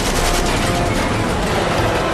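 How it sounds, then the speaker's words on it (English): Intense, dense gunfire rattles continuously at close range as a military helicopter is hit during fighting in the Afghan mountains, loud and unbroken throughout. "intense gunfire riddles their helicopter"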